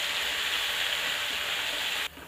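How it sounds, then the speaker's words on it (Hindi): Turmeric fries in hot oil as part of making harira, giving a steady, loud, close sizzle that cuts off abruptly near the end, leaving only a faint hiss. "अब हम इसमें सबसे पहले हल्दी को भूनेंगे"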